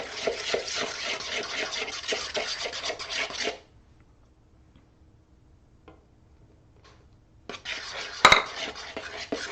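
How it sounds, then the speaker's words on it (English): A metal whisk beating eggs into cream of turkey in a pot, rapid scraping and clinking strokes for a few seconds, a pause of near silence, then another close burst of brisk whisking with a sharp clink. "And then make sure you whisk it around."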